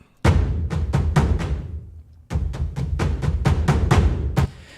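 A bass drum ensemble from the Maliki Epic Kontakt Drums library plays a booming rhythmic loop of deep, punchy hits in quick clusters, pausing briefly before the pattern resumes, loud and close.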